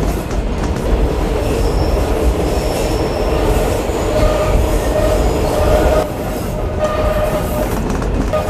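Trenino Verde tourist train in Sardinia running through mountain country, with a continuous rumble of wheels on rails, rhythmic clacking and occasional faint wheel squeal, heard from on board.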